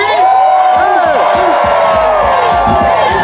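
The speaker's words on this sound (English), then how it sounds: "Y'all got to give it up better than that, DC." A large outdoor crowd at a Juneteenth reparations rally in Washington, D.C. cheers and whoops loudly and continuously, with shouted voices rising above the steady roar.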